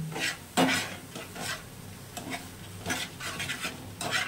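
A spoon stirs soybean mash with turmeric and salt in a pan, making repeated scraping and rubbing strokes in an irregular rhythm over a soft, low sizzle, close and moderately quiet, with no speech.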